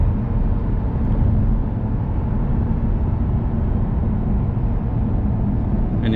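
Stock 2009 Audi R8 with a 4.2L V8 heard from the cabin while downshifting, a steady loud low engine drone and road rumble throughout with no sharp blips standing out.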